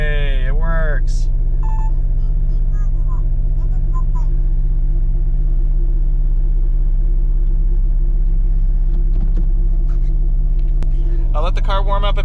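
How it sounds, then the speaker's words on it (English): A Suzuki Cara engine idling after its lead battery is swapped for an Ohmmu LiFePO4 unit, a steady close rumble running throughout, with a voice speaking briefly at the start and near the end. "I'll let the car warm up a bit and then I'll go for a drive."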